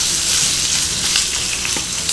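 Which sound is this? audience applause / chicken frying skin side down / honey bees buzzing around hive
chicken frying skin side down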